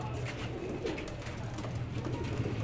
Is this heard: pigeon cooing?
yes